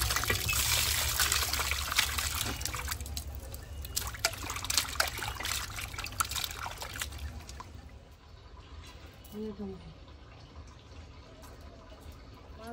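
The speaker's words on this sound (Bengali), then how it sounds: "আমি মাংসটা ধুয়ে নিয়ে আসি।" Chicken meat being washed under running water in a home kitchen, a continuous close splashing trickle that fades and quiets partway through, with faint handling noises near the end.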